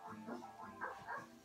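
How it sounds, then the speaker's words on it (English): A cartoon dog in a children's counting app gives a few quick, soft barks and yips in a short burst, heard alone without talk. "There goes the dog."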